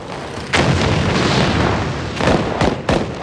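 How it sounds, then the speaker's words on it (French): World War I artillery shells fired and exploding on the Verdun battlefield: a sustained rumbling barrage punctuated by several sharp, loud blasts, the last three coming in quick succession near the end. "37 millions d'obus ont explosé sur le champ de bataille de Verdun."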